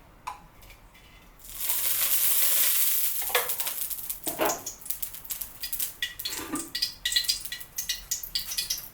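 Oil heating and sizzling in a pan before greens for a mudakathan keerai chutney go in, a loud hiss rising after a quiet start, then crackling pops and light utensil clatter, no speech.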